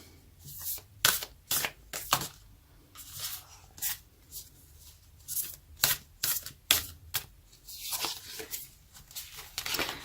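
Tarot cards being shuffled and drawn for a love reading, a quiet run of crisp, papery riffles and flicks in irregular bursts across the whole stretch, close by with no talking.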